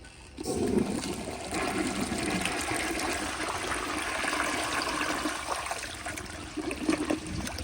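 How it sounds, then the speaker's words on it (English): A 1951 Crane Neuday toilet on a flushometer, with the water pressure turned down, flushes close by in one sustained rushing gush of water that runs steadily and tapers off near the end. "Let me turn down the pressure even more and give it another flush."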